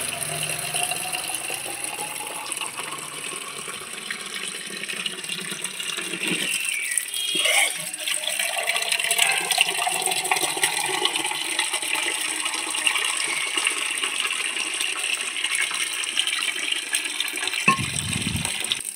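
Tap water runs steadily and close by during a Pohela Boishakh household puja, a broad continuous gush lasting throughout with a brief stronger surge near the end; no one speaks.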